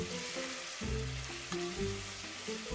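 Curry with tomato puree and red chilli powder being stirred in a pan, a soft sizzle under a few scraping strokes of a spoon and brief low tonal knocks, close and short.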